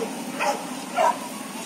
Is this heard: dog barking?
yes